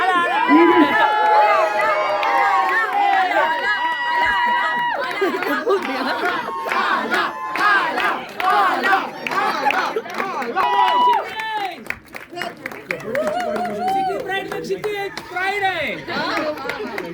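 A Pune premiere audience for Tamasha Live welcomes the music director with loud cheering, whistles and bursts of clapping, under busy crowd chatter and voices.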